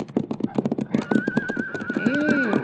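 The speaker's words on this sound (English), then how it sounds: "Hey, it's a horse, all right." A horse heard outdoors near a ridge: rhythmic clip-clop of hooves, then a high whinny rising over the steps near the end, fairly close and clear.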